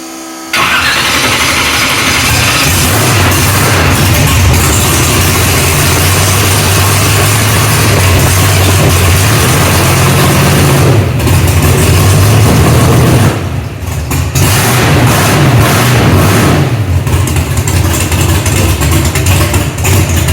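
A car engine fitted with a nitrous kit cranks and fires, then runs loud and steady at idle for a long stretch, with brief dips in the engine note near the end.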